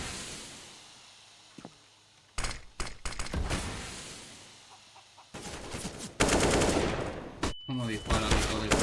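Gunfire in the shooter game CS:GO, quiet at first with one faint shot, then rapid bursts of automatic fire and sharp cracks coming in clusters, with someone talking faintly between them.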